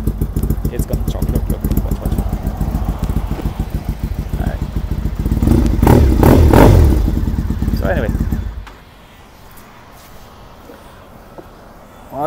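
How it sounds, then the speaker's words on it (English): A cold motorcycle engine idles roughly after a cold start, a steady throbbing chug that swells louder midway and then cuts off, leaving near silence. "cold start on three bikes"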